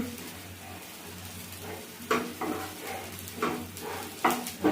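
Chopped onion and green chili fry in a pan, a soft, fairly quiet sizzle broken by several sharper scraping stirs of a spatula at irregular intervals, with a low steady hum underneath.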